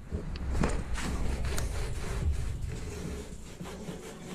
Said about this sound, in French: Là, vous voyez les traces, faut que je frotte.